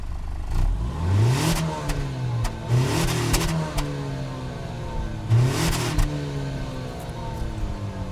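A 2025 Acura RDX A-Spec engine revs up three times in quick bursts, rising and falling in pitch, with idling in between and no talking.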